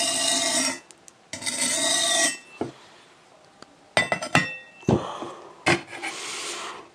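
A knife blade drawn repeatedly across a sharpening surface, bursts of scraping, rasping strokes with short pauses between them and a few clinks, heard up close.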